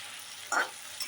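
Onion frying in a pan over a high gas flame, a steady close hiss of sizzling oil that swells into brief louder bursts as the pieces are stirred.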